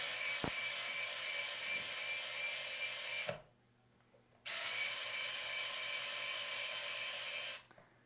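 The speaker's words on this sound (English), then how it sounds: "when the screw gets tight, the screwdriver is able to slip freely in my hand like this" A screwdriver slips and grinds against a tightening screw while a motor is fitted to a conical grinder, making a rough, steady rasping that stops briefly near the middle and then resumes, close and fairly loud.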